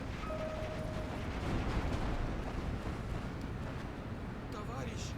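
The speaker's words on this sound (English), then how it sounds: "Here goes the artillery again." Artillery barrages in the tank strategy game Steel Division 2 rumble as a dense, continuous roar of distant blasts, steady and heavy throughout with no clear individual shots standing out.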